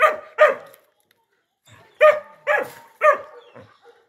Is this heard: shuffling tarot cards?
no